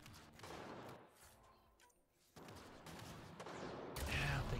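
Gunfire in the sci-fi shooter Mass Effect Andromeda, a rolling fusillade of distant shots and bursts amid noisy combat, easing off briefly before a louder, closer flurry at the end.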